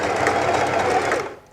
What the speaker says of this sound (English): sit it on the sewing machine